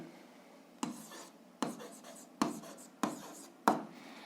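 A pen writes an algebra solution by hand in five sharp, evenly spaced strokes, each a crisp tap followed by a short scratch, close and alone without talk.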